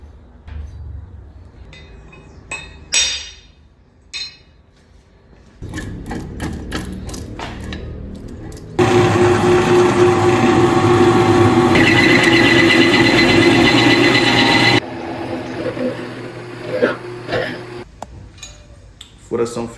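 A drill grinds steadily through a metal knife blade for several seconds, loud and close, with scattered tool clatter and bursts of machine noise before and after.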